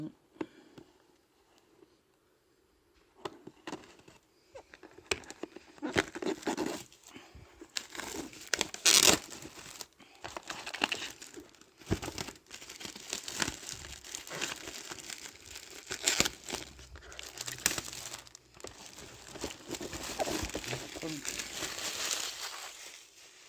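Yu-Gi-Oh! Ghost From The Past card displays and booster packs being opened, with steady crinkling and tearing of plastic wrap and foil packaging, close up and fairly faint, with a voice speaking at times.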